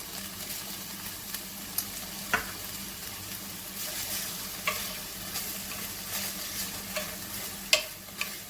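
Broccoli with a pinch of salt stirred in a single pan with chicken and rice, a steady close sizzle broken by sharp spoon scrapes and clicks at irregular intervals, no voices.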